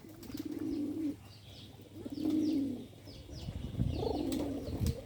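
Domestic pigeons coo in three rounded, throaty phrases at feeding time, close by, with faint chirps and rustling in the background.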